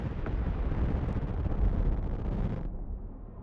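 Bombs explode in the airship war game Highfleet as they fall on a big, slow cruiser, making a continuous heavy rumbling roar that fades slightly near the end. No one speaks over it.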